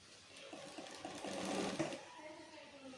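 A sewing machine runs steadily while stitching fabric for a size 34 bra, a quiet, continuous whirring rattle with no breaks.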